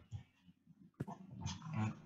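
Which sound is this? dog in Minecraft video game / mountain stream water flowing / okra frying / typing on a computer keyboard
dog in Minecraft video game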